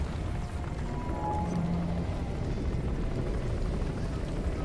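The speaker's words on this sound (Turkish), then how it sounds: "Helikopter. Bir tane." A helicopter in the video game Crysis, a constant droning rotor and engine roar holding steady throughout, fairly loud and continuous.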